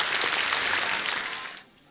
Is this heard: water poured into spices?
no